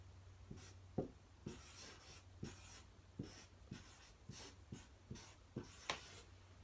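Handwriting on a sign at a Charlottesville rally, marker strokes squeaking and scratching in about a dozen short, separate bursts with brief pauses between, close and faint over low background hum.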